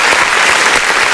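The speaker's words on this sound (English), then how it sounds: "We get an applause for that" Loud, dense audience applause at a rap legend's interview event, a continuous close roar of many hands clapping with no gaps across the short stretch.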